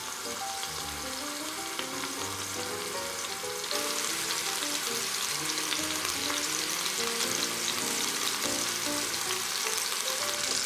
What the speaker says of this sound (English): I'm gonna let that cook for a few minutes on each side to sear it and seal in all the flavors.